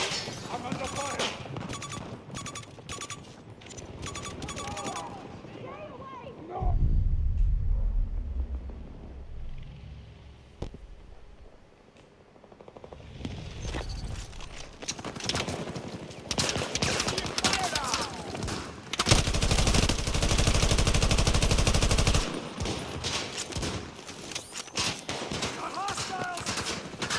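Gunfire in a Battlefield 2042 match, with bursts of rifle and machine-gun fire and heavy rumbling blasts swelling and fading over about half a minute of close combat noise.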